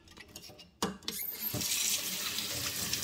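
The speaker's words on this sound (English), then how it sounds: "Now it says to wash them in hot soapy water." Hot soapy water runs from a tap into a kitchen sink while canning jar lids are washed, a steady splashing flow after a few clinks and knocks.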